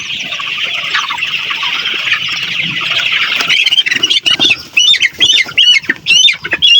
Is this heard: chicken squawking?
yes